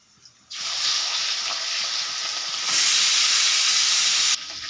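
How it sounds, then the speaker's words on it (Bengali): Murul fish frying in hot oil gives a steady close hiss and sizzle that starts abruptly, swells louder midway, then cuts off near the end, with no talking. "এইভাবে আমি সব মাছগুলো ভেজে নেব।"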